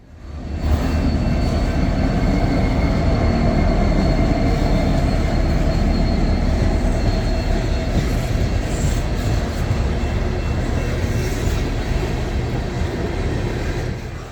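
A Canadian Pacific freight train rumbles past close by in Winnipeg, a continuous loud roar of rolling cars with metallic wheel squeal and rattling, steady for the whole stretch.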